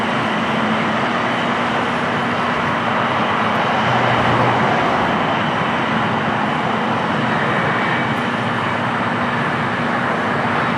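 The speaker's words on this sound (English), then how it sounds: "Ita in the Born to Be Sustainable Special Livery, Flight 620, coming from Rome on this A350-900." An ITA Airways Airbus A350-900 in special livery, Flight 620 arriving from Rome at LAX, gives a steady, loud jet roar that swells slightly midway, a broad continuous rumble with no voices.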